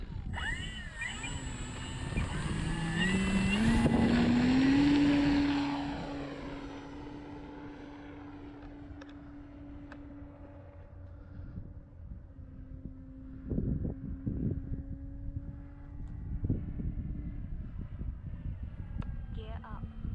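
A large Carbon Z T-28 radio-controlled model airplane flies overhead, its electric propeller whine rising loudly as it passes close, then fading into a steady distant drone under wind noise.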